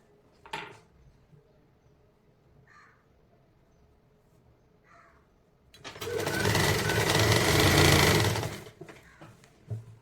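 A sewing machine runs in a loud, dense burst for about three seconds while stitching a kurti under alteration, preceded by quiet handling clicks and a couple of faint caws in the background.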